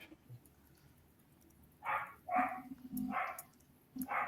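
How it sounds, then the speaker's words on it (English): Several sharp barks from young puppies ring out in a short, uneven burst, fairly close and loud over a quiet room background. "Shut up, dog."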